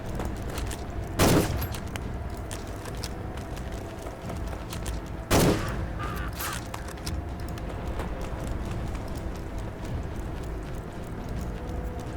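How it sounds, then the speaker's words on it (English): Rifle gunfire in the video game Conscript comes as two separate loud shots several seconds apart over a constant background rumble, with no talking. "All right, more rifle rounds."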